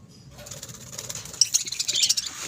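Pigeons kept in a cage beside parakeets flap their wings in a close, rapid flurry of fluttering beats that builds and grows louder over a couple of seconds.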